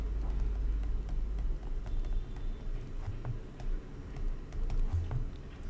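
Quiet typing on a computer keyboard: scattered, irregular light key clicks in short bursts, fairly soft and close, with no talking.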